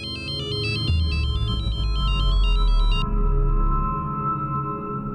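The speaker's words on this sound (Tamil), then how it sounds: "அவளுக்கு யாராவது ஃபோன் பண்ணிக்கிட்டே இருப்பாங்க" A mobile phone rings with a repeating electronic melody that cuts off after about three seconds, leaving a low background rumble.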